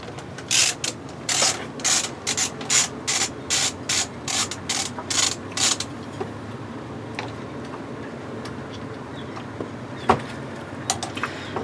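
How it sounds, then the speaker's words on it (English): Stainless steel bolts come off a watermaker pressure vessel with a fast run of sharp ratchet clicks for about five seconds, then quieter scattered metallic taps and handling noises. "this one has a stainless steel bolts, so it's much easier to remove it"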